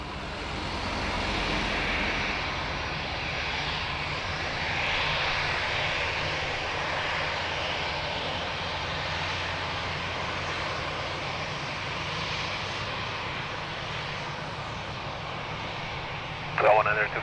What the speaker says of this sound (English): What a nice landing, nice touchdown.